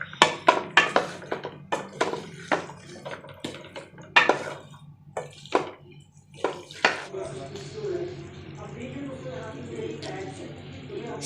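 A spoon scrapes and knocks against a pot of chicken curry in a string of sharp metallic clinks and stirring scrapes, close up, trailing off into softer mixing while a voice talks.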